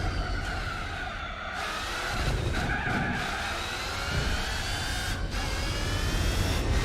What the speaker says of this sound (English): Listen to it squealing as it's trying to get out of corners, fighting for grip.